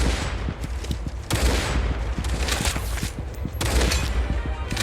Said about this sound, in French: Je mets une balle dans la tête et c'est fini